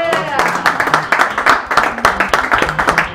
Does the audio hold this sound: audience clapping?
yes